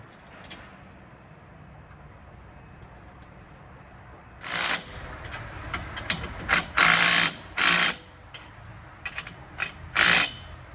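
A ratchet on a 3/4 inch socket snugging bolts on a tractor canopy install, several short bursts of fast clicking after a quiet stretch, close and loud against faint background.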